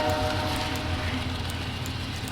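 A runaway train in a video game rumbles continuously, its heavy mechanical drone steady and loud throughout the short stretch, with no voices over it.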